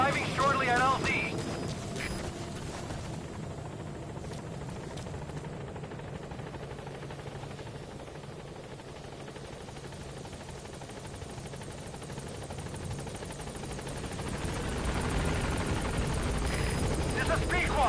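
Helicopter arriving in the video game Metal Gear Solid 5, a steady rotor roar that fills the whole clip, louder at the start and end and dipping slightly in the middle, with faint radio voices underneath.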